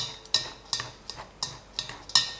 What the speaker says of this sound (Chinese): 用筷子混合均匀，先锁住韭菜里面的水分。